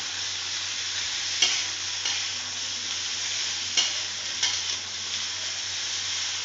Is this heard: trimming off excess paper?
no